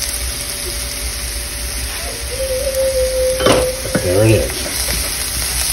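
Garlic sizzles steadily in melted butter in a pan, close and loud, with a utensil stirring and scraping through it near the end; a brief spoken remark is heard.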